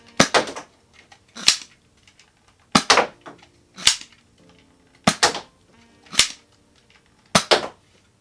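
A NERF Zombie Strike Quadrot pullback-prime pistol is primed and fired repeatedly, giving about six sharp, loud snapping shots, each paired with a softer priming clack, spaced roughly a second apart.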